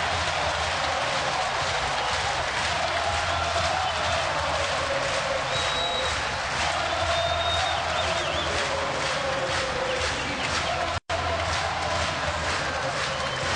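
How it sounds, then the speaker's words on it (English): Baseball crowd at an Orioles home game against the Reds, roaring after a two-out, bases-loaded single that puts Baltimore ahead 9-7; a steady, dense wash of cheering fills the ballpark throughout, with one brief sharp click near the end. "Orioles crowd loving the big hit"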